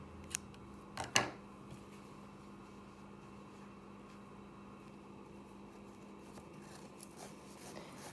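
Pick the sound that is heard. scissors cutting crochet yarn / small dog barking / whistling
scissors cutting crochet yarn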